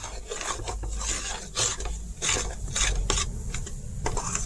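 A thick cashew and milk powder sweet mixture being stirred in a pan off the heat to cool, giving a steady rasping, scraping rub with rhythmic strokes, close and fairly loud with no voices.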